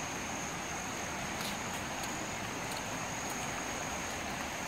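A flooding river rushes past as a loud, steady broadband roar of churning water, continuous and close with no pauses.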